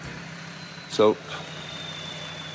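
A Land Rover Discovery 2 engine idles quietly in the background with a low steady rumble, while a voice briefly says a single word.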